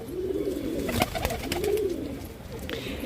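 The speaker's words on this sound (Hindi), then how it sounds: "काफ़ी लंबे चौड़े वजूद में ये कबूतर है, बहुत ही प्यारा है।" Soft, low pigeon coos rise and fall in two rounded phrases, close by, with a few faint clicks and rustles around them.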